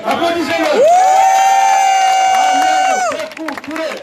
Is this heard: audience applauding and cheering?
yes